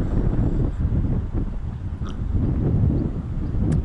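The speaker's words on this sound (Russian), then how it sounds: "Но ветрище здесь лютый." Strong wind gusting across an open field beside a road, a steady low roaring buffet of microphone wind noise throughout with no talking.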